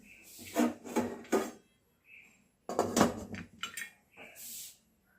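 A lid goes back onto a pot holding an eggless sponge cake made with milk, producing several close scraping and rubbing bursts with brief pauses between them.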